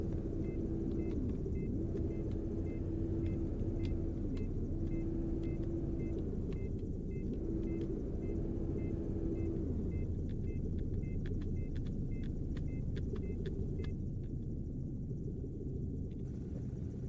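An airport tug vehicle's engine in a video game runs as a constant low rumble and hum, with faint clicks and a wavering tone layered over it.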